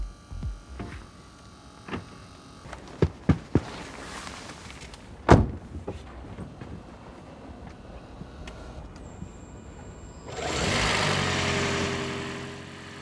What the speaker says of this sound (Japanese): 無事エンジンがかかりました。